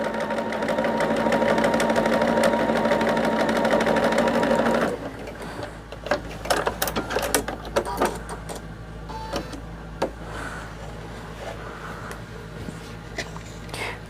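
Sewing machine stitching fabric leaves, a close, steady whirring run for about five seconds that stops abruptly, followed by scattered clicks, handling knocks and rustling.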